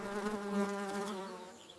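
Busy bees buzz in a loud, steady, close drone that holds evenly for the whole moment with nothing else over it.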